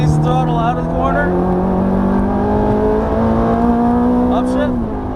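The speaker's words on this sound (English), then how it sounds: "Squeeze the throttle out of the corner." A Ferrari F430 engine accelerates out of a corner on track, a loud, sustained rising engine drone with layered harmonics that climbs steadily before a quick drop near the end, heard from inside the car.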